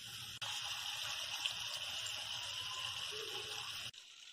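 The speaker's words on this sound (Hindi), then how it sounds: "अब ये जले नहीं, इसके लिए हम इसमें थोड़ा सा पानी ऐड करेंगे।" Water is poured into a sautéing dabeli masala mixture in a pan, a steady close gushing pour lasting a few seconds before stopping abruptly.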